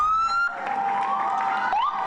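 Sirens wail nearby outside Stony Brook University Hospital, rising and falling in pitch, with a faint crowd murmur underneath.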